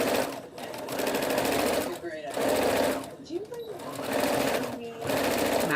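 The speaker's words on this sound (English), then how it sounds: "I just go over it a couple times with my sewing machine to secure it" A domestic sewing machine stitches the edge of a homemade fabric hair bonnet in steady whirring runs, pausing briefly between passes, loud and close.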